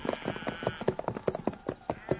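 Silver, the horse, clip-clops on a winter range in a radio drama. The hooves fall in a brisk, steady rhythm, close and fairly quiet.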